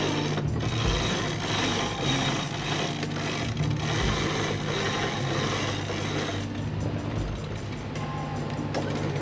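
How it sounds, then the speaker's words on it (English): A self-furling electric winch on a sailboat tightens a sail sheet, making a steady mechanical whir with ratcheting clicks and gear noise that runs continuously, fairly close and without talk. "tightening a little bit on that sheet with the self-furling electric winch"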